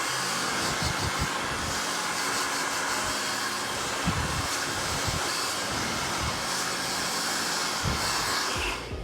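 A hair dryer blows steadily and loudly up close, a constant rushing whir with slight shifts as it moves, cutting off at the end.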